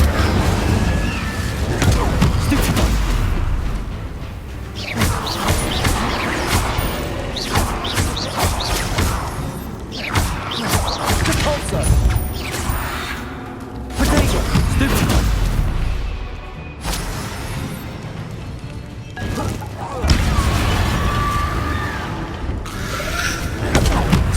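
Spells cast in Hogwarts Legacy fire off as repeated loud crashes, booms and magical bursts in quick succession over a long stretch of combat, with a person talking throughout.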